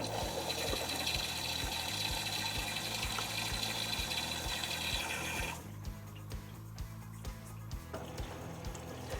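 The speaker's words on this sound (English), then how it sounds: "it's taking in hot water from our combi boiler and cold as well, if it needs to" A Miele PW6055 commercial washing machine takes in hot water from a combi boiler, giving a steady close rush of inflowing water with rhythmic mechanical ticking, which quietens partway through as the flow eases.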